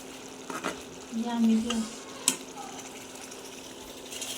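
Spices including turmeric, coriander, cumin and chili frying in a light pot on a stove, with a soft steady sizzle, occasional stirring scrapes and a sharp metallic clink midway.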